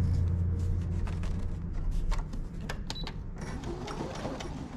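A Brother ST150HDH heavy-duty sewing machine stitches through eight layers of denim, giving a steady close motor whir with rapid needle clatter that runs continuously throughout.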